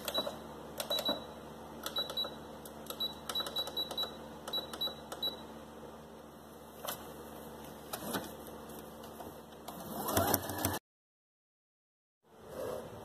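A sewing machine runs in short bursts while zigzag stitching around a small boot, rapid mechanical whirring and clicking starting and stopping, ending in a brief silence before the motor resumes.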